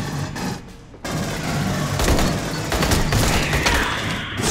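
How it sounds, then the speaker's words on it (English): Burst-fire battle rifle in the shooter game Aliens: Colonial Marines, loud overlapping volleys of gunfire crackling in quick bursts, with a short lull before the shooting resumes and continues densely. "This seems like a battle rifle sort of a thing. It has a burst fire."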